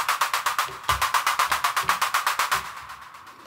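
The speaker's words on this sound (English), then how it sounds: "which is called Clap Afar, and it also has an ARP on it and sounds like this" Elektron Digitone clap patch called Clap Afar driven by an arpeggiator, a rapid even stream of sharp, airy claps repeating about six per second, slowly fading toward the end.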